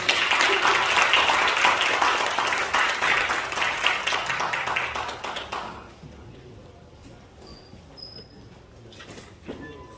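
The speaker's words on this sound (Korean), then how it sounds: "박수로 한번 맞아주시죠" An audience at a Korean theology institute's founding and book-launch ceremony applauds to welcome a speaker. The dense clapping lasts about six seconds, then fades to a quiet room with a few faint sounds.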